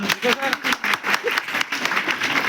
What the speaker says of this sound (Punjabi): ਜ਼ੋਰਦਾਰ ਤਾੜੀਆਂ